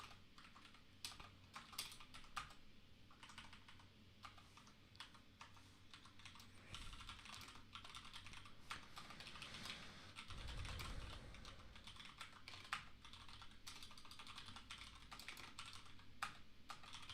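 Steady keystrokes on a computer keyboard while coding, a close, continuous patter of irregular clicks with occasional louder taps, running alone throughout.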